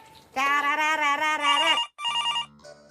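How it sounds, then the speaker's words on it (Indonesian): A telephone rings in a comedic Indonesian sinetron scene, loud and close, with a long sustained bell-like burst followed by shorter electronic ring pulses. "Siang-siang kok telepon."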